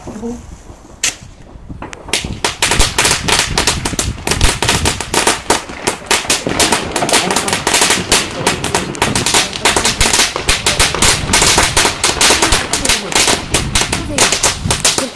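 A long Panda 550-shot firecracker chain crackling in a dense, rapid barrage of loud pops, continuous for many seconds after a quieter start, at New Year's Eve.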